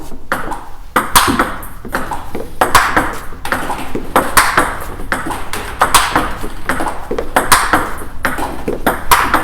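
Sharp, rapid ping-pong ball clicks from forehand cut strokes repeat in a steady rally rhythm, close and crisp, with no talking.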